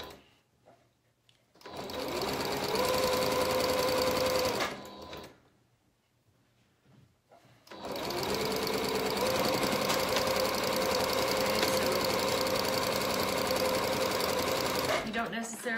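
A sewing machine top-stitches a piece onto the front of a McCall's 7061 shirt, running in two long steady bursts separated by a short pause.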